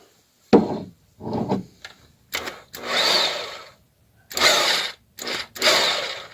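A Lincoln PowerLuber AC2440 corded grease gun, empty of grease, runs at its low speed setting in several short motor whirring bursts separated by brief pauses, close up.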